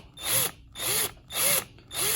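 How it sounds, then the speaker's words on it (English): A power drill bores out the rivet of a small 1/64 scale metal toy car in four short bursts, each whining up and winding down with brief pauses between, close and loud, with no talking. "drill until you start seeing the metal bits or plastic bits kind of come through"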